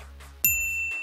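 A single bright notification-bell ding chimes suddenly partway through, then its clear metallic tone rings on and slowly fades, alone with no talk.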